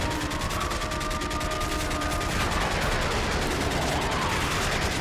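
A P90 submachine gun fires in the Modern Warfare 3 video game campaign, continuous rapid automatic bursts loud and close throughout, with faint game tones underneath.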